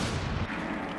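Explosions in a Rainbow Six Siege match on the Coastline map, a brief muffled low boom that rumbles and fades within a second, fairly faint and without speech.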